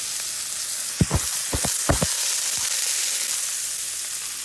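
Leek greens drop into a hot pan and sizzle, a few sharp crackling bursts over a steady frying hiss, close and fairly loud.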